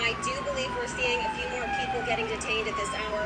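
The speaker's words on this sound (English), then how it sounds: "You guys can hear the sirens right now." Police sirens wail in the distance behind steady street noise while a person speaks over them.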